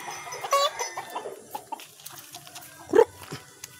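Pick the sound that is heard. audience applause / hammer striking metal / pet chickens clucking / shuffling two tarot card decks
pet chickens clucking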